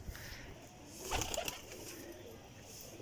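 Pigeons kept for flying coo softly in a loft, with a brief burst of calls and wing sounds near the middle, fairly faint and close.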